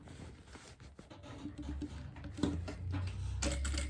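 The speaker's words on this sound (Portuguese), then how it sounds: "vou prender e vou passar um retrocesso, uma costura aqui, fechando essa caixinha" A sewing machine runs a backstitched seam closing a small fabric box for a basic toiletry pouch, giving a close, steady mechanical whir with rapid ticking that grows louder toward the end, with no talking.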